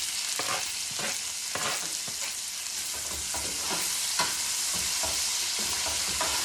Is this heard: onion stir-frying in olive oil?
yes